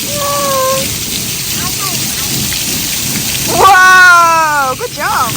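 Heavy rain pours steadily with rumbling thunder underneath, and excited voices shout and exclaim over the downpour.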